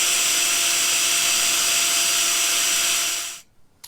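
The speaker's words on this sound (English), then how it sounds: "now I'm going to drill the rest of the rivets out" A steady, loud high-pitched whine of a power drill boring out metal rivets on a Triumph Tiger 1200 XCA motorcycle exhaust, running continuously for several seconds before cutting off abruptly.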